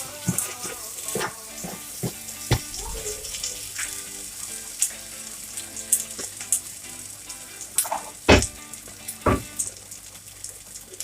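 Meat sauce sizzling and frying in a pot of peanut soup, a continuous crackling hiss broken by sharp pops and spoon knocks, close and fairly loud.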